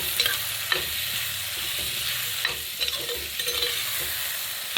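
Chopped lemon with green chilies and curry leaves sautés in a pan for a curry-lemon dish, with a steady loud sizzle and repeated scraping stirs throughout, no talking.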